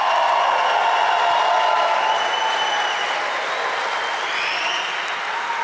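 A church congregation claps in a dense, continuous wash that holds steady and then slowly eases, distant and reverberant, with no clear shouting standing out.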